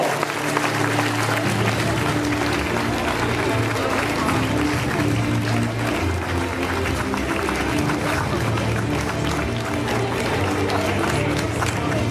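A crowd applauds a runner at the prize ceremony of a 2018 half-marathon and night race in Nuits-Saint-Georges, producing a continuous, fairly loud wash of clapping and crowd noise that runs unbroken throughout.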